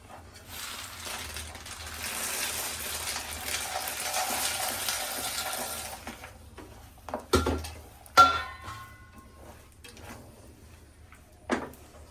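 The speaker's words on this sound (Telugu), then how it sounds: "ఇప్పుడు పల్లీలు వేసేస్తాను" Peanuts roasting and being stirred in a pan over foaming syrup: a soft, steady sizzling hiss for several seconds, then a few distinct clunks and scrapes of stirring against the pan, near and alone.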